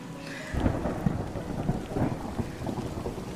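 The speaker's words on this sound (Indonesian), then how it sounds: "hujan." Steady rain falls at night with low rumbles of thunder rolling through, a dense wash of rainfall sound with repeated heavy booms, no voices.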